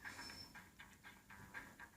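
Train sounds from the mobile video game Subway Surfers: a quiet, steady rumble with a faint hiss and repeated soft clacking, alone with no talk.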